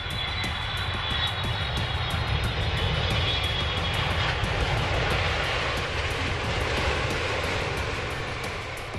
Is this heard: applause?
no